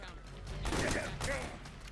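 Twin-barrel shotgun blasts in Metal Gear Solid 4: Guns of the Patriots, a couple of loud booming shots around the middle over game ambience, with a voice talking faintly.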